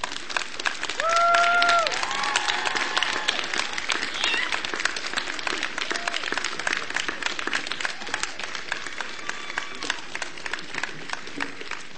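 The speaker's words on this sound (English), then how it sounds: "I invite you to turn around and applaud them." Graduation audience applauding parents in a convocation hall, a steady broad wash of clapping that holds for the whole stretch, with a few faint voices and tones rising early on.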